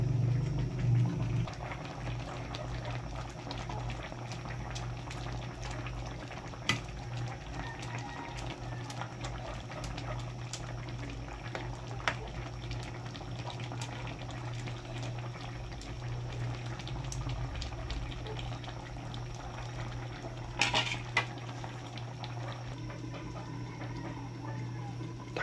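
Mung bean soup with mushroom bubbling in a pot, a soft, steady simmer heard close with faint clicks and a brief clatter near the end.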